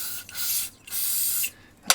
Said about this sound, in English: I'm going to give it a little bit of silicone lubricant